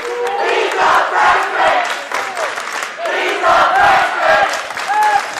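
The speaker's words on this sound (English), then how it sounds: "David Del Torrio to a Spartan round of applause from the student section." Student section crowd cheering and shouting at a high school boys' basketball game in a gym, loud swelling roars in waves with whoops over them, and an announcer's voice mixed in.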